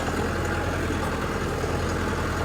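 Tractor engine running with the driver seated on it, a loud, steady, continuous low rumble with an unchanging drone and no pauses or voices.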